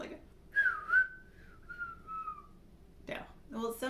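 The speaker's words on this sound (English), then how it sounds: "Some of us can even whistle." A person whistles a short tonal phrase, a couple of brief notes followed by a longer sliding, wavering tone, close and clear, with brief talk near the end.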